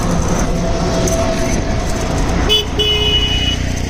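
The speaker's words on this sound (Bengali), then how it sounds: "প্রচুর গাড়ির চাপ মানে ভালো মতো কথা বলা যাচ্ছে না" Heavy road traffic on Marine Drive in Cox's Bazar makes a loud, constant roar, with a horn sounding partway through.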